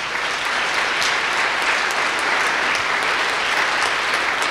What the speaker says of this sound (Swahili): Patia Yesu makofi mazuri.